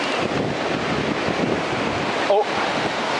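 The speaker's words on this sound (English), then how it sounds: "Oh, Rusty and Max, there comes a wave." Ocean waves wash onto a California beach with a steady roar of surf, mixed with wind buffeting the microphone; a brief voice cuts in near the end.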